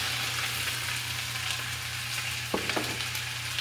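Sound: onions added to hot pan, splattering

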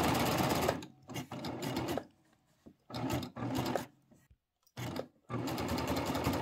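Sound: Baby Lock serger sewing around fabric corner

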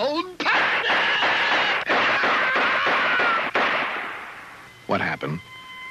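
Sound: gunshots in a 1974 cartoon

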